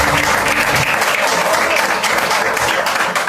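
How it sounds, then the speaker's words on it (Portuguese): A church congregation at a Baptist evening service claps loudly and steadily in praise of Jesus, a dense, continuous wash of applause filling the whole moment. "e as palmas louvam a Jesus"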